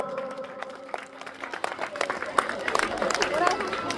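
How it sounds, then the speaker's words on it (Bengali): A school audience claps at a Children's Day prize-giving, first thin and scattered, then growing into fuller applause under and between a loud announcer's voice on a public address. "জোরসে একটা হাততালি দাও সবাই"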